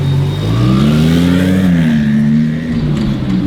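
A turbocharged Lamborghini rally car launches hard, its engine note rising in a loud, close, sustained rev for about three seconds before easing slightly.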